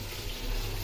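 Water splashing into a pot of simmering Sonali chicken curry, a brief close, continuous rushing pour with no voices.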